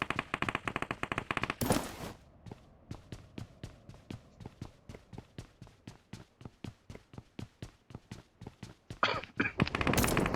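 PUBG Mobile gunfire: a rapid automatic burst opens, then a long run of evenly spaced sharp single shots crackles nearby, and a dense automatic burst closes the sequence, with no talking.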